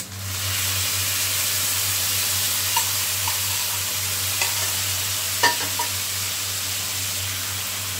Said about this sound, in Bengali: এবার এটাতে আমি তৈরি করে রাখা এটা সবজিটার সঙ্গে মিশিয়ে দেব।